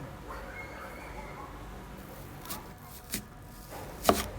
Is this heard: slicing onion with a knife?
yes